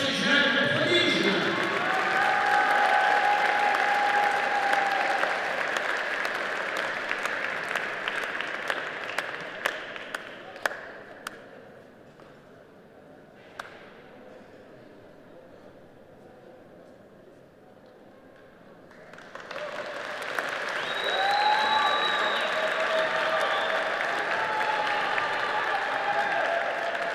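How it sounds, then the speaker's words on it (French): Crowd at a Vovinam Viet Vo Dao World Cup medal ceremony applauding young medal winners, loud sustained clapping that fades to near quiet midway and then resumes strongly, with announcer speech and crowd noise. "on peut encore les applaudir, ces jeunes prodiges"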